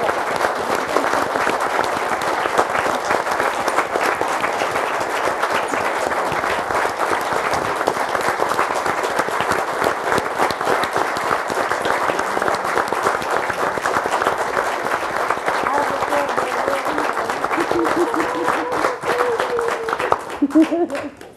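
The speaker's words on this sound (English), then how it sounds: "So she deserves a big round of applause." Long sustained applause fills a city council meeting room, a crowd clapping steadily and loudly with a little talk creeping in near the end as it dies down.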